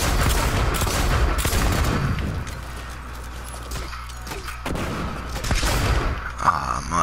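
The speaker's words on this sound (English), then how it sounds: "Yeah, he using a machine pistol." Machine pistol fire in the shooter game Blacklight: Retribution rattles as a dense, continuous spray of rapid shots, loud and close, easing briefly midway before the firing surges again.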